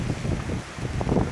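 Wind from the Hurricane Matthew storm buffeting a microphone outdoors, a low rumbling gusty roar that rises and dips over a second or so, loud and close, with no voices.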